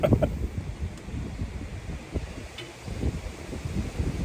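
Gusty wind buffets the microphone outdoors, a steady low rumble swelling and easing throughout with faint rustling and no voices.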